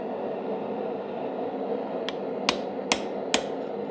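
A hammer strikes a thin unhardened chisel during forging work, four sharp metallic blows spaced about half a second apart over a steady fan-like background hum.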